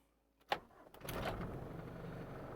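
A Mitsubishi Pajero with high mileage cranks briefly with a sharp click, then its engine catches and settles into a steady, close, moderately loud idle rumble.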